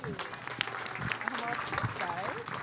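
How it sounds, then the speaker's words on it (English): An audience applauds panelists at a Latina real estate professionals' event, a brief, moderately quiet patter of clapping with some voices mixed in. "A round of applause for them, please."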